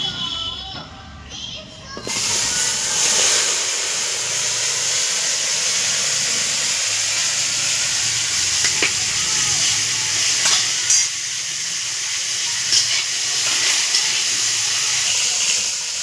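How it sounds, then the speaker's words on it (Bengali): Okra (bhindi) frying in hot oil in a home kitchen, a loud, continuous sizzle and hiss that starts abruptly and carries on steadily with occasional stirring clinks. "এবার ভেন্ডিগুলো আমি ভেজে নেব।"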